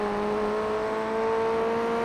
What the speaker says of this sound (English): Back on the gas, revving it out that little bit more